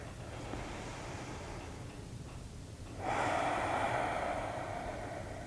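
A person doing yoga breathes slowly in and out, a soft airy inhale and exhale, the second breath louder and fuller, close and alone without talk.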